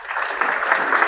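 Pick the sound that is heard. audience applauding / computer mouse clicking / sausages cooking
audience applauding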